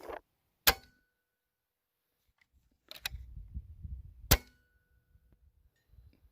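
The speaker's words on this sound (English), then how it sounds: "I just finished shooting at 180 yards and 200 yards as well" A Hatsan Nova .177 air rifle fires slugs at a distant target around 200 yards, three sharp isolated shots spaced by quiet gaps, with low rumbling handling noise between them.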